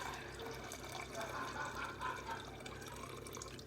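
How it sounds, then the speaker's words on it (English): Brandy poured into a measuring cup, a soft continuous liquid trickle heard faintly and close, with a low hum of the room behind it. "You want to pour at least a cup of it."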